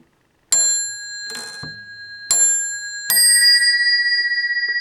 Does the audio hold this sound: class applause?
no